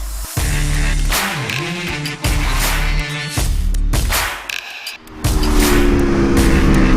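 A loud 2019 Aprilia RSV4 1100 Factory sport motorcycle engine revs hard, rising and dropping in pitch through several sharp bursts with brief gaps between throttle blips.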